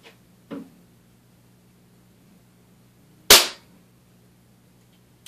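A Daisy air gun fires a .22 wadcutter pellet, one sharp, loud crack with a quick decay in a quiet setting, preceded by a faint small click.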